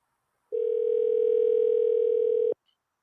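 Telephone dial tone from a call-in line during a live show, one steady flat tone lasting about two seconds that starts and stops abruptly, alone against silence.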